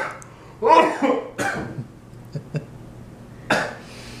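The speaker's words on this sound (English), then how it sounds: "he starts to cough" A man coughs several times in a kitchen, with a quick cluster of harsh coughs followed a few seconds later by one more cough, close and fairly loud, and some faint voices nearby.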